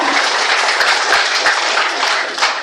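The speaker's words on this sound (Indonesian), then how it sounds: "Tepuk tangan untuk SBK." An audience bursts into dense, sustained applause, loud and continuous throughout the short moment, with no voices rising above the clapping.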